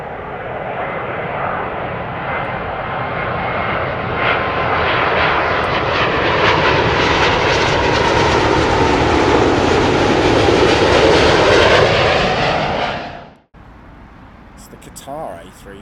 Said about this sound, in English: American Airlines Boeing 777-200, and that is coming in from Dallas.